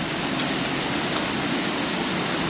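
Water rushes through a Dolomite canyon with a waterfall, a dense, unbroken roar of white noise heard close up and loud for the whole stretch.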